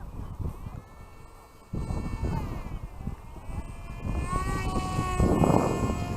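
A small Nano-Skyhunter RC plane's electric motor whines steadily as it flies slowly into the wind, with wind buffeting and rustling noise throughout and a faint rising pitch near the end.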